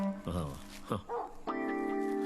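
A dog inside an outhouse gives a few short, high yelps and whimpers, faint and muffled. A voice speaks alongside, and a steady tonal hum follows.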